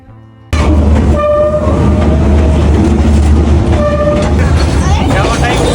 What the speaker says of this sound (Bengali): ট্রেনটি যখন আপনার একদম গা ঘেঁষে চাকা ঘষে চলে যাবে